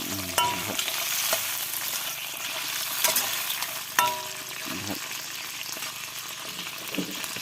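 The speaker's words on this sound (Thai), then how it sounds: "เขาจะทำการ ทอดปูก่อนครับ" Crab frying in hot oil, a steady crackling sizzle close by with occasional sharp pops and utensil clinks, moderately quiet, no talking.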